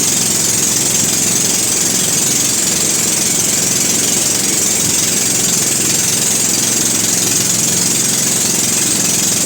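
A motorboat engine drones loud and steady on a river trip, a constant close rumble with rough vibration that runs unbroken throughout.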